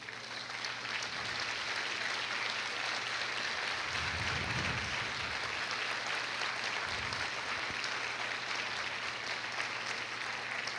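Applause from a church congregation during a sermon, a steady dense wash of clapping lasting throughout, with a few low thumps partway through.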